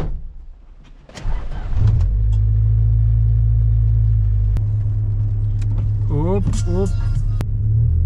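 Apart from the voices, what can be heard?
Honda Civic Coupe EJ6 car driving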